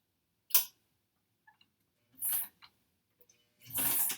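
A sewing machine stitches a foundation paper-pieced quilt block in three short bursts of rapid mechanical ticking, close and fairly quiet, separated by pauses with faint clicks, including a brief reverse stitch.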